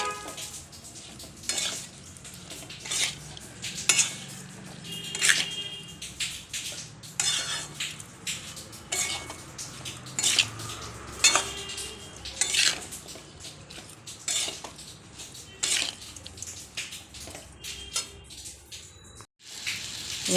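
Amla (Indian gooseberry) pickle stirred slowly in a pan, with steady scraping and clinking of a utensil against metal, sharp clatters recurring through the stretch and a soft sizzle underneath, near and moderately loud, with no talking.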